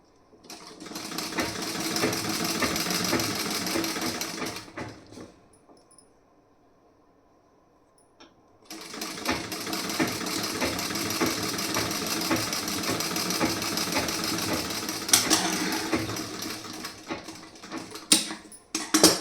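A sewing machine stitching a blouse piece, a close, steady mechanical whir that runs for a few seconds, stops into near silence, then resumes for a longer stretch ending in a few clunks.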